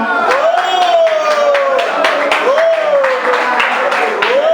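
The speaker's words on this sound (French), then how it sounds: "Je voudrais encore qu'on l'acclame une fois." An audience applauds a guest of honour at a community ceremony, steady dense clapping from a crowd while a sung or chanted voice rises and falls over it.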